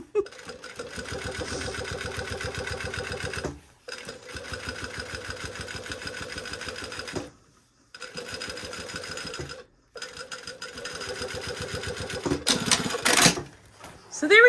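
A sewing machine runs close and loud, topstitching fabric in rapid mechanical stitching bursts. It stops briefly three times, then starts again, and a short clatter comes near the end.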